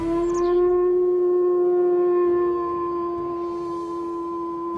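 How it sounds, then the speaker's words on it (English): Wolf howl from the video game WolfQuest: one long, sustained, steady-pitched tone that holds loud and clear for nearly five seconds, haunting and mournful, with no speech over it. "There's another very haunting howl."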